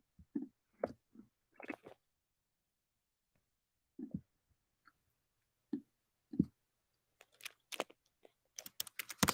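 Typing on a computer keyboard, sparse clusters of soft key taps with long pauses between them, then a quicker run of sharper clicks near the end, close up and quiet.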